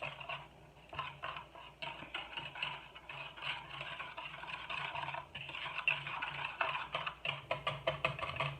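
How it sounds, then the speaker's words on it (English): A whisk beats homemade chocolate pancake mix with sugar and salt in a bowl, giving a fast, quiet, steady clicking and tapping that runs continuously and grows a little more rhythmic toward the end. "And we're going to whisk this up."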